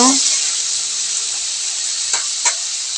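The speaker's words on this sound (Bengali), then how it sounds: "আর এখানে পেঁয়াজ আর রসুনটা একটু হালকা করে ভেজে নিব।" Onion and garlic sizzle steadily in hot oil in a home kitchen pan, a dense continuous frying hiss with a couple of brief stirring scrapes near the end, no talking.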